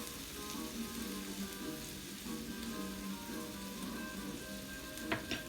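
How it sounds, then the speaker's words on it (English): Beans tossed into a hot pan sizzle in a steady, even hiss that runs the whole time, with a few faint clinks near the end and no talking. "pan really nice and hot, throw your beans on there"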